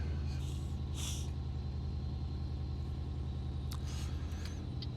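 Air brakes on a truck in Euro Truck Simulator 2 hiss in short bursts over a steady low engine rumble, with no talk.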